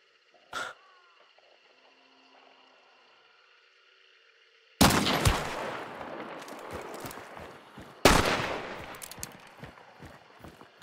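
Gunshots in Hunt: Showdown boom out twice, each a loud blast with a long rolling echo that fades into scattered crackling, after a brief sharp click and quiet ambience.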